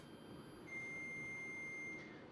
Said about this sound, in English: My oven is finishing preheating here, so that is the beep you're hearing there.